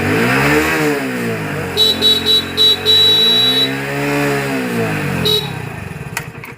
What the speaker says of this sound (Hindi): अभी हॉर्न भी देखो काम करना शुरू हो चुका